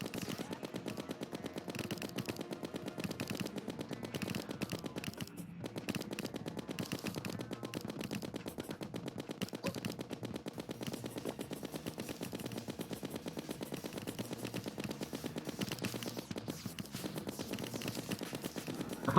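Rapid, steady gunfire from a gun in Terraria during a Master Mode skeleton boss fight, a dense continuous stream of shots running loud and unbroken for the whole stretch, with no talking over it.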